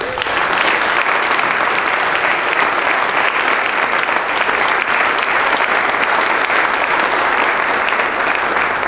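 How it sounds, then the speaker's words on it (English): A large audience at a community breakfast event gives a loud, sustained round of applause, dense clapping that holds steady throughout without pause. "join me in one more giant round of applause for all of our founding partners"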